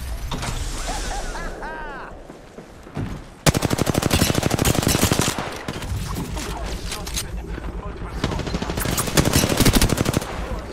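Apex Legends gunfire: after quieter game sounds and a brief voice, rapid automatic weapon fire erupts near three and a half seconds and continues in long loud bursts with mechanical clatter to the end.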